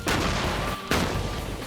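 A trench torpedo explodes in a trench safety test, two loud, close booming blasts, the second hitting sharply after a short dip, with rumbling debris noise throughout.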